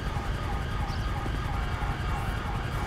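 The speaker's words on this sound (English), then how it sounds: "Right, well, the ambulance is coming." An ambulance siren in the video game GTA 5 with a UK police mod, wailing steadily over a low engine rumble throughout the short stretch.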